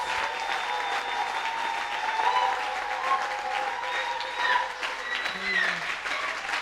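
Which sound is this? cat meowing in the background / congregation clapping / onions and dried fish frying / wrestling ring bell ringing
congregation clapping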